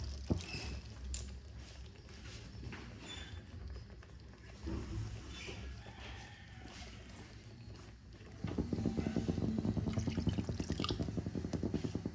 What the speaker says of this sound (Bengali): এবার আমি অল্প জল দিয়ে দেবো।